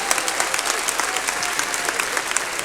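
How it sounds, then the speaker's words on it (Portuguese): Church congregation applauding during an evangelical sermon, a steady dense patter of clapping hands sustained evenly from start to finish. "Pode aplaudir também"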